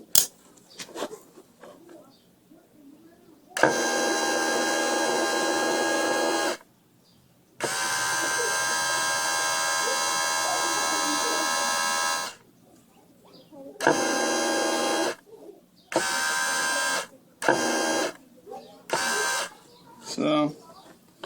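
A vehicle power window motor, removed and run directly from battery leads, whirring in long steady bursts and then several shorter on-off runs, with quiet clicks and handling noises between.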